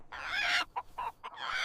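A chicken clucks nearby: one long squawking call, then a few short clucks in quick succession and another drawn-out cackle, with no talking.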